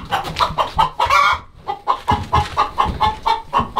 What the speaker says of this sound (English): A chicken was laying an egg right there, and she jumped out because I scared her away